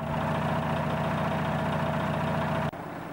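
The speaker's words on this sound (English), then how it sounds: "Watch and listen to what an engine sounds like before adding MOTORUP" A car engine idles during a test of a MOTORUP engine treatment, with a close, steady, droning hum that dips sharply for an instant near the end and then settles back.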